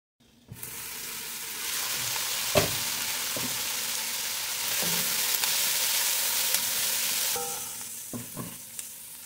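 White onion frying in a pan toward caramelizing, a steady broadband sizzle running throughout with occasional utensil scrapes and clinks as it is stirred, close and fairly loud, no talking.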